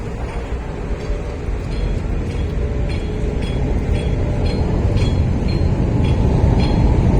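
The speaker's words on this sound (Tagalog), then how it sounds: "Yan, may dumaan na LRT mga bayan." A light rail (LRT) train passes along the Pasig River Esplanade in a steady, loud roar that swells slightly as it goes by, with no talking.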